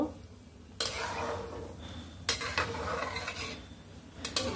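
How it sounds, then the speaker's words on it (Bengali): A utensil stirs spice into fish curry gravy in a pot, making quiet sloshing and several sharp clinks of metal against the pot over a low simmer, with no talking. "এখন মশলাটাকে আমি চারিপাশ থেকে সুন্দর করে তরকারির ঝোলের ভিতরে নামিয়ে দিব।"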